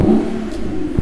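A Honda Civic 1.5 VTEC idling with its active sound system on, a loud close low engine drone with a brief rise in revs near the end.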